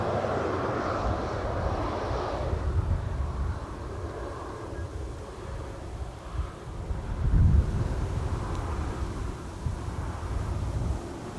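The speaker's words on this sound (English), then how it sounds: "Got a visual on the A380." An Airbus A380 arrives at Schiphol's Polderbaan runway 18R as a distant, low rumble that rises and falls, mixed with gusts of wind buffeting the microphone.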